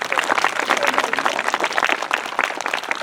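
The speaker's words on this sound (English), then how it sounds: "Give Miss Kim Carpenter a round of applause." A crowd applauds at an elementary school water tower ribbon cutting, with brisk, even clapping from many hands sustained throughout a short stretch.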